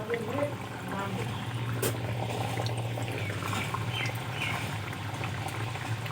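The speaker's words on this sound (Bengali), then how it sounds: "এখন আমি তেলের মধ্যে নিমকিগুলো দিয়ে দেব। নিমকিগুলো ভেজে নেব।" Nimki, crisp flaky Bengali flour snacks, bubble gently in moderately hot oil, a soft low continuous fizz and simmer with faint crackles, quiet and close, with no voices over it.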